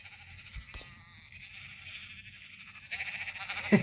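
Sheep on a farm flock along behind a person, a few soft bleats at first, then louder, closer bleating near the end.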